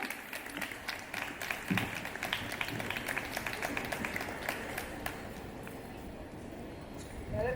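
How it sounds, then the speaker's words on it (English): Applause from an audience at a college Independence Day celebration patters steadily in dense, moderately distant clapping that carries on for several seconds and gradually thins toward the end. "Let's all clap for them."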